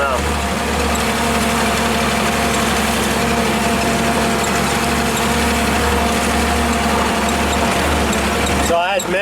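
A 1948 Chevy dump truck engine runs steadily with a low, rumbling drone and a loud, even mechanical roar heard close up, continuing without a break until a brief disturbance at the very end.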